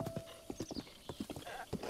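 Horse hooves clip-clop in Zelda: Breath of the Wild, a quick irregular series of distinct near hoofbeats with no talk.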